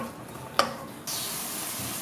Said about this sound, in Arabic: نتقوا هذا البصل كتتقلى لينا مزيان